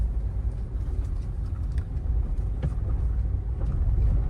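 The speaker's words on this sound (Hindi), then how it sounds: "डीजल गाड़ी का वैसे इंजन पावरफुल होता है" A diesel car engine pulls in second gear during a driving lesson, a low steady rumble that grows slightly louder toward the end, heard from inside the cabin without talk.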